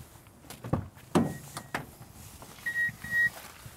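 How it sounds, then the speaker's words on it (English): Two short electronic key-left-in warning beeps sound in quick succession near the end, following a few thumps and clicks inside a quiet Toyota HiAce camper van. "That beep is just telling me that the key is left in."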